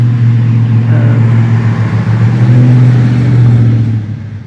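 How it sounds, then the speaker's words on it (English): A truck missing its front quarter panel drives past close by, its engine a loud, steady low drone that fades away at the end. "That's that truck missing his front quarter panel."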